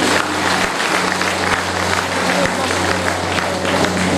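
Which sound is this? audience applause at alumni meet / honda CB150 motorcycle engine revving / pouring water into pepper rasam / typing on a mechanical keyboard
audience applause at alumni meet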